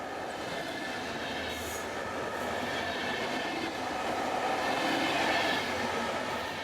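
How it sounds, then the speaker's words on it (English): A Finnish class SR2 electric locomotive hauls a train of double-deck coaches west from Helsinki toward Turku, a steady, dense rolling roar with rail rumble and faint wheel squeal passing close throughout, swelling slightly near the end. "Here class SR2 heads west with a train of double-deck coaches from Helsinki for Turku."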